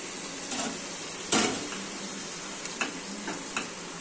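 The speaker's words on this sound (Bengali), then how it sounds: "দেখো আমি নাড়ছি" Ash gourd pieces coated in turmeric and releasing water are stirred in a pan, giving a soft, wet sizzle with a few scattered scraping knocks from the spoon.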